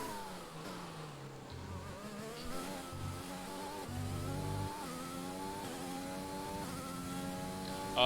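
A sim racing car engine drones through a flying lap in a video game with a Williams steering wheel and automatic transmission, the pitch rising and falling as gears shift, fairly quiet and steady with no voices.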